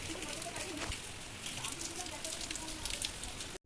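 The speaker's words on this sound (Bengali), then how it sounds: "আমাদের এখানে ওয়েদার সমানে সেই রাত ভোরবেলা থেকে বৃষ্টি হচ্ছে" Steady rain falls through an early morning downpour, a dense, even hiss filling the space from start to finish, with faint murmuring voices beneath it.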